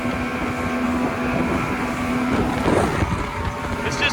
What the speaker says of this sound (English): give her a little wide open run so you can hear the motor spin